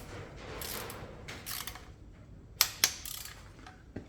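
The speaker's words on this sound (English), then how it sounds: "Take the torque wrench with the longest possible extension" Torque wrench clicking as bolts are tightened during a cambelt change on a 2019 Skoda: two sharp, close clicks in the middle and a few fainter ticks against a quiet background.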